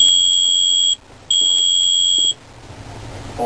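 A Doyon oven controller gives electronic beeps as it signals it is ready: a long, piercing steady tone, a short gap, a second long tone, then quiet room noise.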